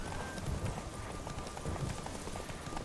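Horse hooves clip-clopping steadily at a trot in The Witcher 3: Wild Hunt, a dense, even rhythm under continuous game background noise.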